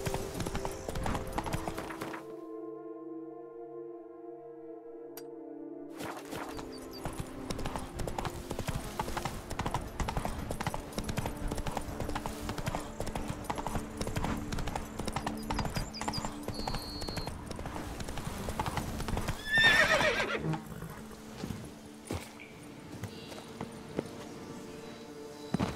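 Horse hooves clip-clop at a steady gallop in The Witcher 3, running continuously for most of the stretch under game music and ambient tones, with a brief whinny-like burst near the end.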